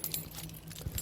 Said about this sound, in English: Bentley keys, 2 of